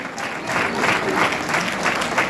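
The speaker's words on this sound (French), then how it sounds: "Je voudrais vous inviter là aussi à applaudir chaleureusement toutes celles et tous ceux qui ont participé à cette deuxième saison des lieux à réinventer." A crowd at a theatre inauguration in France claps warmly, a full, steady wave of applause filling the room. It stays loud and even, with no one speaking over it.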